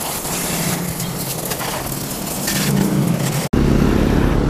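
A Yamaha Mio i 125 scooter engine revs close by, with a steady loud buzzing drone that briefly cuts out and then resumes stronger.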